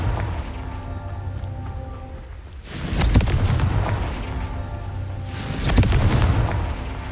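A Confringo explosion spell bursts twice in Hogwarts Legacy, each a loud, close boom with a crackling tail, about three seconds apart, over a low ambient hum.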